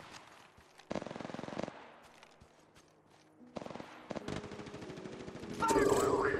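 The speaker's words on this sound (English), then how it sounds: "They're shooting at me!" Bursts of automatic gunfire in the battle royale video game Apex Legends, rapid rattling volleys separated by pauses, loud and close, followed by a brighter electronic charging sound.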